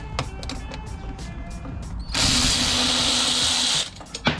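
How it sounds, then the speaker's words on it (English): A 10 mm bolt being taken off a 2025 Suzuki M109R motorcycle, with light metallic tool clicks followed by about two seconds of a whirring power-tool burst, then a few clicks as it stops. "So let me take this 10 mil bolt off real quick"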